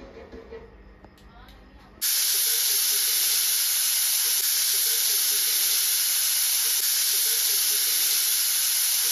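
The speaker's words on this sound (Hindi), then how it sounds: "तर आपण बंद करूया आणि 3 शिट्ट्या करून घेऊया आपण." A pressure cooker whistling as it vents steam while chicken biryani cooks: after brief kitchen sounds, a loud, steady high-pitched hiss with a piercing whistle tone cuts in and holds unbroken for about seven seconds.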